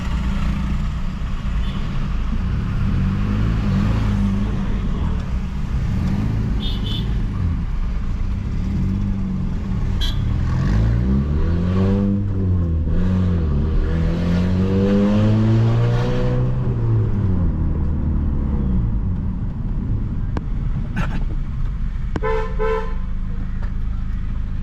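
A 2008 Honda Civic Sport, 140 hp, driving with a loud engine and exhaust drone that rises and falls through revs, pitch sweeping up and down mid-drive, with a couple of short horn-like toots.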